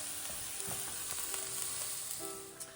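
Butter and vegetables sizzle steadily in a hot pan for a large batch of fried rice, a dense continuous frying hiss with a few faint clinks from stirring, and no one speaking.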